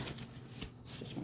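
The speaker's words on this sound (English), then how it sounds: "I'm gonna shuffle these. Just want to shuffle them." Tarot cards being shuffled by hand, a quiet run of soft riffling and papery flutters close by, with brief louder bursts and no talk.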